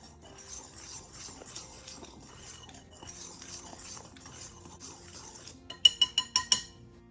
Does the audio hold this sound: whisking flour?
yes